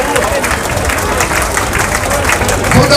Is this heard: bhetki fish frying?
no